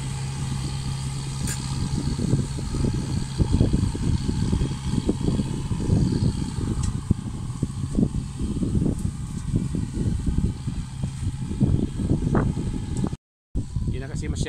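A farm tractor engine runs on a rice field, a low rough chugging with uneven knocks and rattles heard close throughout, briefly cut out near the end.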